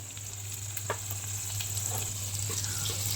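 Fish frying in a pan gives a steady, close sizzle with light crackles throughout and no voices.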